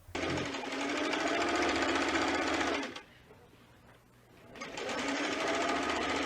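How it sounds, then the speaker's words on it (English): A Singer Stylist sewing machine runs fast and steady in a close, loud mechanical whir, stops briefly for about two seconds, then starts stitching again. "she's using a Singer Stylist sewing machine"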